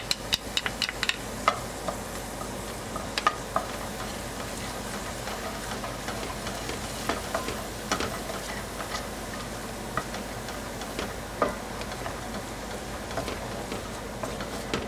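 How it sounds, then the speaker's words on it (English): Finely chopped onions frying in melted butter in a pan, giving a soft, steady sizzle with scattered faint ticks and crackles. "Then melt the remaining butter and add the finely chopped onions."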